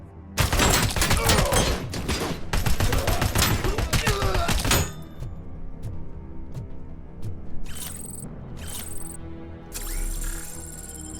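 In the RoboCop: Rogue City video game, a German rifle fires in dense, rapid bursts for several seconds, loud and close. Scattered quieter thumps and shots follow.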